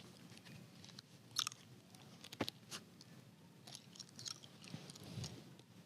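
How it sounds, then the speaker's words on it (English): Someone chews hard candy close to the microphone. Sharp, irregular crunches and bites stand out over a quiet background. "Why does it sound like you chewing hard candy?"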